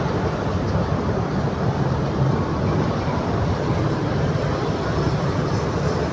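A train rumbles at Purwosari railway station near tracks under a flyover, a steady loud low drone of engine and rail noise filling the whole stretch without a break.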